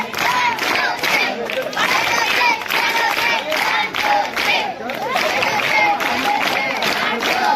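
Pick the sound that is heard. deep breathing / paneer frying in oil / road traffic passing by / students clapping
students clapping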